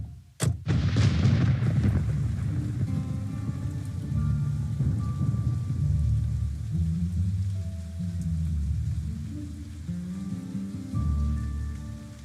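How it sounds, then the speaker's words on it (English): Steady rain patters throughout after a sharp booming crack of thunder near the start, with a low rumbling game ambience underneath in Nancy Drew: Trail of the Twister; no one speaks. "It's raining, my favorite kind of weather."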